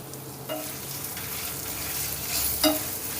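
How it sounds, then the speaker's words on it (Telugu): Oil sizzles steadily with a bright crackling hiss as turmeric and asafoetida fry for lemon rice, broken by a couple of short stirring scrapes; no voices. "ఇప్పుడు ఇందులోనే కొద్దిగా ఇంగువ కూడా వేసుకుందాం"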